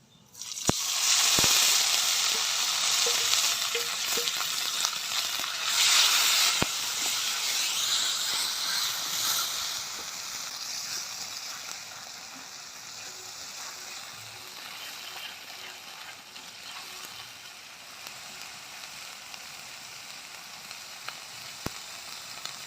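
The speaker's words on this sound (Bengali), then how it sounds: "এবার আমি কড়াইতে সেই মশলাটা দিয়ে দেবো।" Spice paste hits a hot wok for katla fish-head muri ghonto, bursting into a loud, dense sizzle that gradually settles into a steady, softer frying hiss, with a few sharp clicks of utensils.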